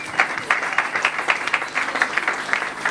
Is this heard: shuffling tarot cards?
no